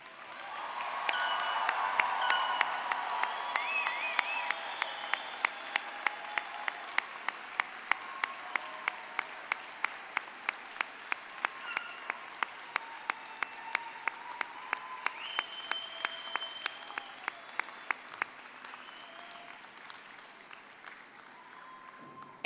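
A commencement audience applauds the spring 2023 graduates in a large hall. Dense, sustained clapping swells early, carries on for nearly twenty seconds, then thins and fades out.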